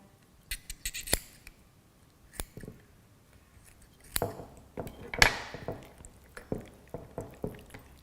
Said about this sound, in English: take the scissors to cut up towards the atria